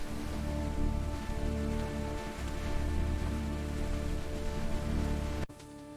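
Heavy rain from a thunderstorm pours down over open land, a dense, steady hiss of drops hitting the ground that stays unbroken and loud until it cuts off abruptly just before the end.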